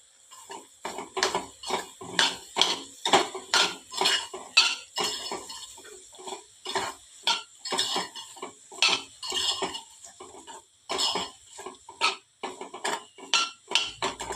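A spoon stirs boiled potatoes into a mixture in a bowl, scraping and clinking against the sides in a steady run of close, rhythmic strokes with brief pauses, no voices.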